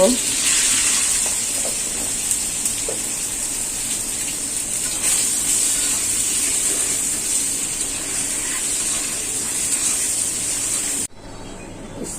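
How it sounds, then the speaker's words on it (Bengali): Cooking oil sizzling in a pan on the stove before eggs and onion are fried, a steady bright hiss throughout with small crackles, ending abruptly. "আমি ডিমটা ভেজে নিব, তেল দিয়ে দিলাম"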